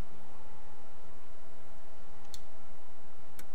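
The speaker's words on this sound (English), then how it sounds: "right under the landing gear on the left side, we can flip the APU on." Cockpit switch clicks from the APU control beside the landing gear lever in an F-22 Raptor in Microsoft Flight Simulator: two short, sharp clicks spaced about a second apart over a steady electronic hum.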